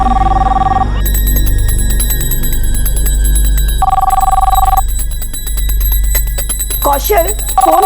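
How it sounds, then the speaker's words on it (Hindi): A landline telephone rings in loud electronic trilling bursts, one at the start and another midway, over a busy indoor background with clattering and a voice near the end. "लैंडलाइन है मम्मी, मेरा फोन हो ही नहीं सकता।"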